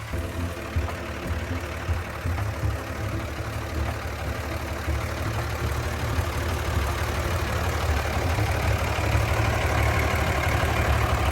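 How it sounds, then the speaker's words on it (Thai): A Komatsu WA200-1 wheel loader's 6D105 diesel engine idles steadily and loudly at close range, a low rumbling drone that holds constant throughout with no talking. "เครื่องยนต์ 6D105"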